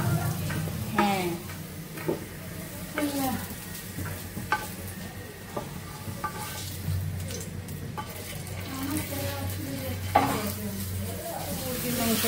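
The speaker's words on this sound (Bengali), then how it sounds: "মুরগির মাংসটা রান্না করে নিচ্ছি" Chicken meat sizzles steadily in a hot pan, with intermittent scraping stirs and occasional clinks of the utensil against the pan over a continuous frying hiss.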